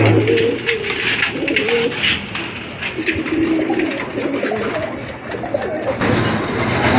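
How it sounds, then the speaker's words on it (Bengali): Big-size red Rajgolla pigeons coo continuously up close, overlapping low rolling calls over a busy, noisy background. "মাশাল্লাহ আরেক জোড়া কবুতর রাজগোল্লা কবুতর বিগ সাইজের রেড কালার"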